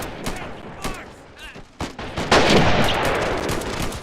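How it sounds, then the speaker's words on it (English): Rapid rifle and machine-gun fire from troops holding high ground in a video game battle for Pork Chop Hill, with sharp repeated shots rattling throughout and a denser, louder barrage in the second half. "They still have to deal with these high ground troops who are literally rattling out shots"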